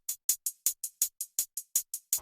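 Hi-hat strokes in a steady rock rhythm, about twelve sharp hits alternating louder and softer accents, close and alone.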